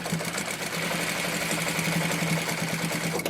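A sewing machine runs continuously, stitching fabric with a steady, close, humming whir throughout.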